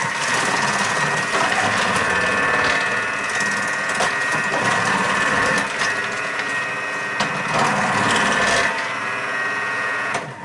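A Thermomix slicing bell peppers on its thick setting gives a constant loud mechanical grinding whir with crunchy chopping of the vegetable throughout, close up and with no talk over it.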